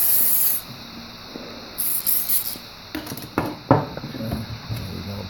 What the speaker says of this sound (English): Give me a little spray.